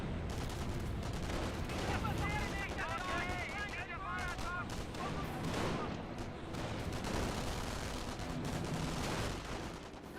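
Gunfire and an MG42 machine gun in the Company of Heroes 1 battle game, with dense overlapping shots and bursts over a continuous loud wash of combat noise lasting throughout.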